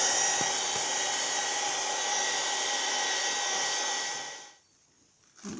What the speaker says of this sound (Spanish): Yo lo voy a secar con la pistola de calor